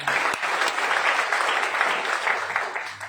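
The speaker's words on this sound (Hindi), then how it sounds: "उनके लिए एक जोरदार तालियां हो जाए" Audience at a Nexmoney business event breaks into dense, steady applause, a continuous wash of many hands clapping that holds at full strength throughout with no one speaking over it.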